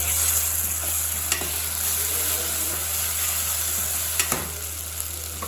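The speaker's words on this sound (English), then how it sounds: "Fry for 2 minutes." Onions and ginger garlic paste frying in a pan for a cauliflower curry, a steady close hiss of sizzling oil with a couple of soft stirring clicks, no voices.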